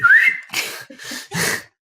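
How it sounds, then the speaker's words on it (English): A person gives a short whistle, a clear rising tone at the start, followed by a few breathy, airy whistled bursts up close, then silence. "I would like to whistle back at them"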